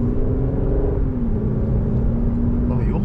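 A deep, steady Aston Martin DBS engine rumble idles close by in GT mode in Tokyo, a low continuous drone with faint mechanical texture and no clear revving.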